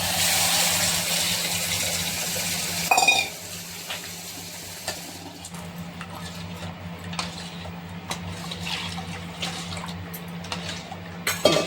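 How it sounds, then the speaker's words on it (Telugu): Water is poured into a bowl of fried moong dal soaking for payasam, a steady rushing splash for about three seconds followed by quieter trickling and small clinks in a home kitchen. "తగినంత నీరు పోసి ఊరబెట్టుకోవాలి"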